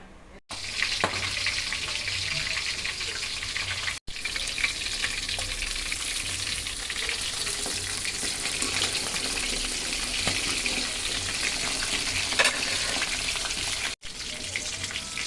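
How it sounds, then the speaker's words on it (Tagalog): Milkfish (bangus) sizzles steadily in a hot pan of oil, a continuous loud crackle with brief pauses near the start and end and occasional stirring or utensil sounds. "Magpiprito na tayo ng bangus."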